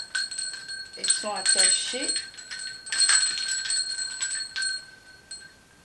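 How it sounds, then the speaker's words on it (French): Small bells jingle and ring in bright bursts while someone speaks briefly over them, close by. "j'ai pris ces cloches-là"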